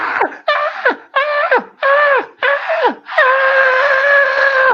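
Screaming fungus in a Dungeons and Dragons session, a loud piercing shriek repeated in five quick wailing bursts that fall off at the ends, then one long sustained scream, close and alone.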